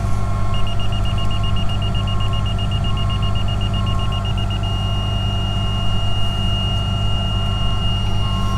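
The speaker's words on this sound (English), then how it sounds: "If you get that solid beep and the green light, that means you're level." A laser level gives a steady, continuous electronic beep once it sits level, a solid tone running about four seconds over a constant low hum, with shorter intermittent beeps alongside.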